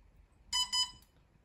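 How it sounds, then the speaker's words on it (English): Two quick high-pitched electronic beeps in close succession from a DJI FPV drone in pairing mode, followed by a faint third chirp, against a quiet background. "See, when it's in para mode, you can get that beep."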